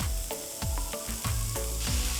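Sprouts and chopped paneer sizzling in a hot pan, with a steady frying hiss broken by several sharp clinks and scrapes as the ingredients are stirred, close and clear with no talking.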